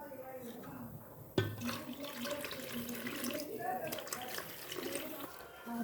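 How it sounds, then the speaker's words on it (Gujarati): Lukewarm water is poured from a vessel into cream to churn ghee, a continuous close splashing pour of several seconds that starts with a bump and carries on beneath a quiet voice. "એટલે આપણે નવશેકું પાણી ઉમેરી દઈશું"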